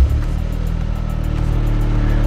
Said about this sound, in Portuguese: Dispensa comentários esse ronco desse motor, né?